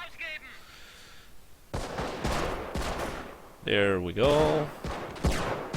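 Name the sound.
grenades used in Company of Heroes video game battle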